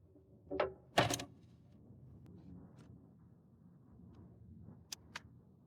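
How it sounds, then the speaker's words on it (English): A drawer being pushed onto GRASS Dynapro metal runners with a front locking device, giving a couple of sharp clicks and knocks early on, then quiet sliding and two faint ticks near the end. "Insert the drawer."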